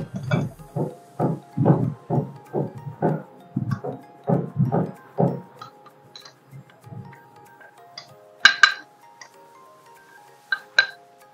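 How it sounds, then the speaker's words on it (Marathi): Rice flour and besan for chakli are sifted through a sieve. About a dozen evenly spaced soft taps and shakes come close up, then slow into scattered light knocks and a few sharper clinks, with no speech. "तर सर्वप्रथम आपण हे चाळून घेऊया जरा व्यवस्थित"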